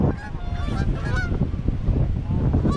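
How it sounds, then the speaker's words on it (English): Geese honk repeatedly while trying to take flight in stormy, windy weather, several calls at mid distance over constant wind rumble, with no talk. "Oh, look at those geese trying to fly."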